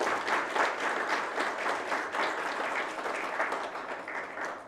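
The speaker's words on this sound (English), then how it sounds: "A round of applause, ladies and gentlemen." An audience at a keynote address by Vishal Bhat, head of after-sales business and service at VW India, breaks into sustained applause, a thick, even roar of many hands, loud and continuous with no talk over it.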